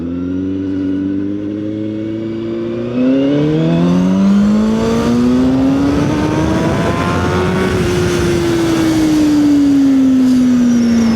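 A CFMOTO 750SR-S inline-four motorcycle engine winds up hard and close, its tone climbing smoothly through several revving pulls toward a high, buzzing peak before easing slightly, loud and alone.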